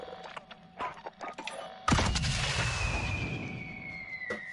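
Rapid SMG gunfire from a video game shooter, starting abruptly partway through as a loud, sustained burst that rings on with a long tail, after softer scattered game sounds.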